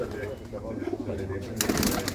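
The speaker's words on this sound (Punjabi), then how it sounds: "ਦੇਖੋ ਭਾਈ ਕਬੂਤਰੀ" A female pigeon coos softly in low, throaty bursts close by, while a person talks over it and a rustling noise comes in toward the end.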